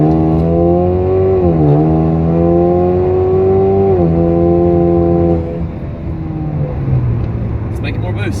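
A four-cylinder turbocharged Camaro running on E85 fuel accelerates with a loud, droning engine note whose pitch climbs and dips in waves, then settles lower near the end.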